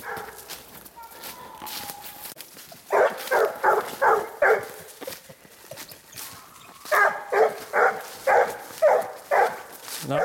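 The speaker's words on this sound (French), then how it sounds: "Elle est rapide cette chienne sur le pied." A female hunting dog baying on a scent trail: two runs of rapid, rhythmic barks, each a string of about five loud yelps, separated by quieter outdoor rustling and faint background sound.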